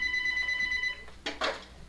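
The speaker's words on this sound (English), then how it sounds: "You can hear the phone in the background." A telephone rings in the background of a room during a Minecraft build session, a steady electronic trill for about a second followed by a couple of short clicks and knocks.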